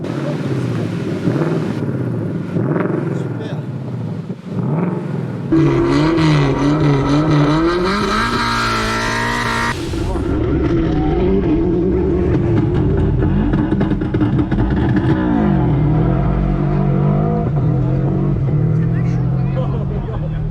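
Vintage cars roll past at an old-car rally at a Sunday market in Saint-Sauves d'Auvergne, with engines rumbling and revving close by, loud and steady under constant talk and crowd chatter.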